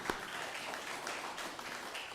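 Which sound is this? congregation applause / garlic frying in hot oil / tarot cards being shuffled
congregation applause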